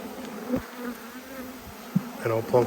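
Bees hum steadily near and all around during a hive inspection, a constant buzz with a few soft knocks and handling sounds from the frames.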